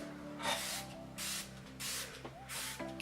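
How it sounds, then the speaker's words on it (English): Four quick spritzes from a facial mist spray bottle, evenly spaced, each a short airy hiss close to the listener, over a faint low hum. "so I'm just going to spray this"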